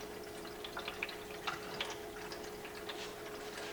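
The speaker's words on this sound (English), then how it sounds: "trickle sound." Water trickles faintly in a Drinkwell pet fountain, giving soft, irregular drips and splashes over a quiet, steady hum.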